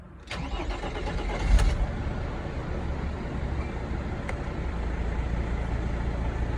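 A Mercedes Sprinter W906 van, swapped from a 2.2 OM651 to a 2.7 OM612 diesel, cranks briefly and catches, then settles into a steady, close rumbling idle that holds to the end.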